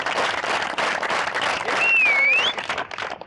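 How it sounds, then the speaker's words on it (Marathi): Studio audience applauding for a friend on a Marathi TV show, a dense burst of clapping from many hands, loud and sustained, with a brief whistle cutting through midway. "तर एकदा आपल्या मित्रासाठी सगळ्यांनी जोरात टाळ्या वाजवा"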